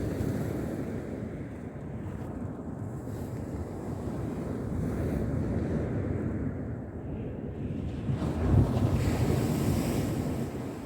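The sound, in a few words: wind and sea waves outside a fishing bivvy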